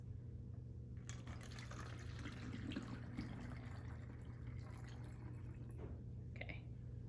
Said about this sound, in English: we're going to start off with water, and I'm going to fill this halfway. I'm going to use